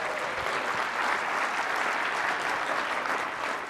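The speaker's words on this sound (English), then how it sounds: "Give yourselves a round of applause." An audience claps steadily and densely at a political talk event, a continuous wash of applause lasting the full few seconds with no break or voices on top.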